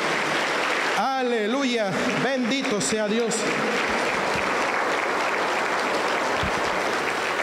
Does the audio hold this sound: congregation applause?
yes